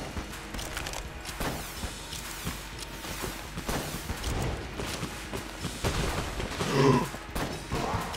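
Scattered bursts of gunfire and impacts from the game Enter the Gungeon over a busy, muffled background, with a sharper cluster of shots near the end.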